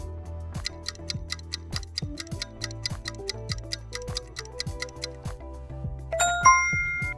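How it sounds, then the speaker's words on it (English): A clock ticks in a steady, evenly spaced rhythm, each tick close and crisp, with a few bright chime-like tones ringing out near the end. "Yes, clocks have hands to show the time."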